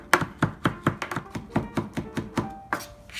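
Fresh herbs are chopped with a knife on a cutting board in about a dozen steady, evenly spaced thunks, close and moderately loud with no talking.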